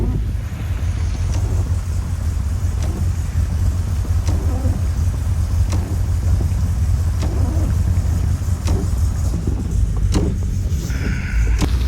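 A GMC truck engine running roughly with poorly set timing, a loud low rumble close by under heavy wind buffeting, with faint irregular ticks through it.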